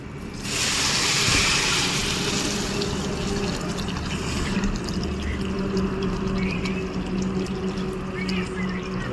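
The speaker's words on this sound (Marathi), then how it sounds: "आता ते पाणी टाकायचं" Water pours into a pot of khichdi with rice, turmeric and salt, a loud, steady rushing and gurgling fill that starts abruptly and runs nearly unbroken, with a low hum and faint voices beneath.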